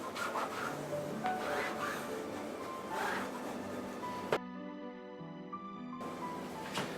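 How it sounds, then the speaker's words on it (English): A burnishing tool is rubbed gently over paper and tape on a conservation-framing mount, a close, steady scraping hiss that swells in repeated strokes. "take my burnishing tool and gently burnish it down"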